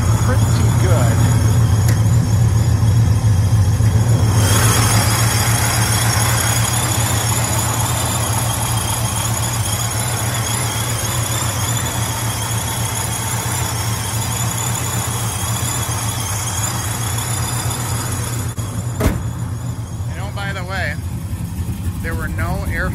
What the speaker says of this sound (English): blowers sound pretty good